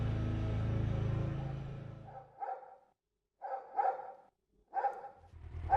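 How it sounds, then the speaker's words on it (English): A dog barks in an Xbox One driving game, three separate bursts of barking spaced out after a fading engine drone, moderately loud and clear with no talk over it. "There's a dog."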